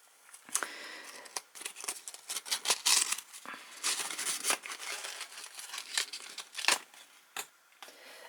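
Plastic packaging crinkles and crackles close up as it is opened, in irregular bursts of crisp rustling and tearing with short pauses between.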